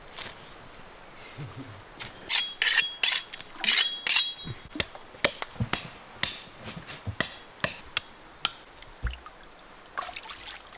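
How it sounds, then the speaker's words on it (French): A fish being cleaned and cut gives a quick run of sharp knocks and chopping strikes in irregular bursts, close and fairly loud, with faint wet trickling sounds between them. "Il a nettoyé le poisson en 30 secondes chrono, temps record."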